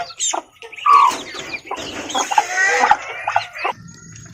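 Free-range village chickens cluck nearby in a farmyard, several short, loud clucks and squawks overlapping in quick succession.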